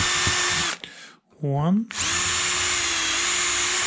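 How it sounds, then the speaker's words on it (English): A power drill bores a 2mm pilot hole square through a wooden wardrobe drawer front, a loud steady whine running nearly the whole time and pausing briefly while a voice speaks a word in the gap. "drill through with a 2mm hole, keeping it nice and square"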